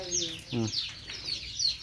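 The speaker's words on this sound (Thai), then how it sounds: "อันนี้คือเป็ดพี่น้องตัวนี้สิเป็นเป็ด" Ducks call in short nasal quacks and clucks close by, mixed with brief chirps; a voice is heard speaking in Thai amid the calls.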